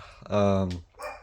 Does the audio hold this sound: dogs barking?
yes